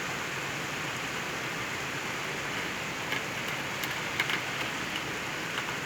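Heavy rain pours down steadily during a strong thunderstorm in Le Mans, a dense continuous hiss of drops on surfaces with a few sharper close impacts.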